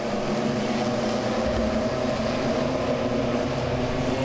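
Standard Welding Pro 6 race cars lap the Langley Speedway oval in a 30-lap race, producing a continuous, loud, dense engine roar that holds steady for the whole stretch, with no voices audible.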